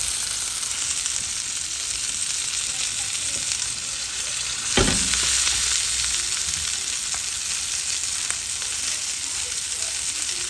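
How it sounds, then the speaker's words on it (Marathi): Fish frying in hot oil for a Konkani fish thali, a steady loud crackling sizzle throughout with a sharp burst of spitting where the fish goes into the pan. "बरो तापलेले आहा. आता नुस्तें दवरया."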